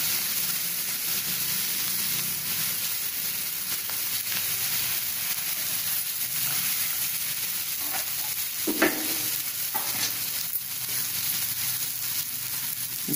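Chilli garlic bread slices cook in a hot pan, a steady soft sizzle and frying hiss running throughout, with a few light stirring or scraping sounds near the middle.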